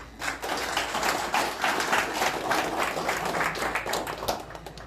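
Audience applause at an official installation ceremony, a dense, steady wash of many hands clapping that starts almost at once and keeps going at an even level right to the end, with no voices standing out.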